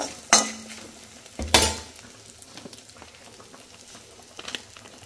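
Coriander seeds drop into a hot pan with two sharp bursts, then settle into a light, crackling patter and faint sizzle that continues quietly.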